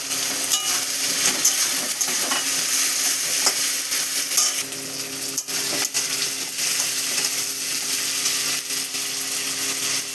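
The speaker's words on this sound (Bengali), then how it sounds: "এর মধ্যে দিয়ে দিলাম কেটে রাখা বেগুন আর কুমড়োগুলো দিয়ে দিলাম, ভাজা ভাজা যাতে হয়ে যায়।" Chopped brinjal and pumpkin frying in a pan with a loud, continuous sizzle while a utensil stirs and scrapes through them, close and steady for the whole stretch.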